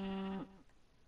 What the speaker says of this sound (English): We got a bunch of cows.